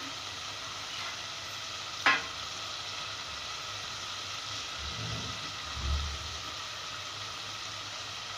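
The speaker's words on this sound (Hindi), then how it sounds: "इन्हें भी डालकर मैं बहुत अच्छी तरह से भून लूँगी" Potatoes fry in masala for an egg and potato curry, a steady soft sizzle from the pan that continues throughout, with one sharp clink early on and a couple of low bumps later.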